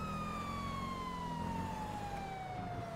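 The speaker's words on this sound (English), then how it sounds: "So again, use a priority siren." A steady electronic police car priority siren from GTA 5 wails continuously with a slowly falling pitch, alone and at a constant level.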